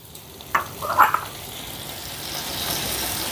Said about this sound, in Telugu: ఇప్పుడు ఇందులో ఒక పెద్ద సైజు టమాటా ముక్కల్ని వేసుకుందాం